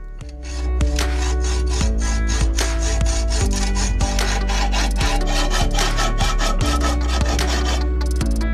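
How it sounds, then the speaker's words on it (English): A hacksaw cuts excess metal from an engine-model part, making loud, close, rhythmic back-and-forth rasping strokes about twice per second. A steady low hum runs beneath the strokes. "starting with removing the remaining excess material using a hacksaw"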